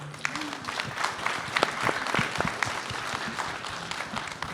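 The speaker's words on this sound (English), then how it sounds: "A little applause for my group here." Audience applause for a social influencer content creation panel at a PRI event, a steady moderate clapping from a room of people, dense and continuous with some individual claps standing out.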